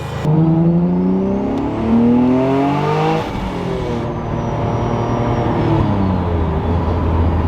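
A 700 hp V6 all-wheel-drive Honda Civic with a 76mm big single turbo accelerates hard, its loud engine note climbing through rising gear pulls, then dropping at a shift before building again, close up and without talk.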